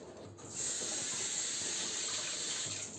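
Kitchen tap running steadily while salad vegetables are washed, a close, loud, continuous water rush that starts suddenly and holds, with faint splashing and no talking.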